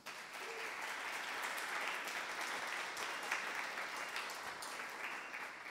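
Audience at a design and leadership talk applauding the guests, sustained even clapping from a sizeable crowd that holds steady throughout.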